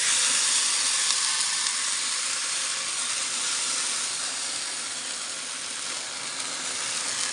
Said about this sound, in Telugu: ఆయిల్ వేసేసుకొని మనం కలిపించుకున్న పిండిని అయితే వేసేసుకున్నాం